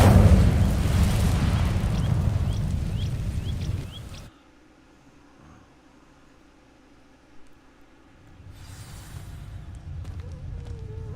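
Incendio fire spell cast in a Harry Potter video game, setting dry vines alight: a loud, dense roaring burst of flame for about four seconds that cuts off abruptly, then quiet ambience before a softer rumble returns.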